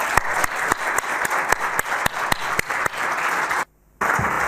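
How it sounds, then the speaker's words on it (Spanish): Loud, continuous applause from a lecture audience at a talk on Renaissance Milanese crystal carving, dense clapping with sharp individual claps standing out, cutting off abruptly near the end before resuming briefly. "Despedirla simplemente con un fuerte aplauso"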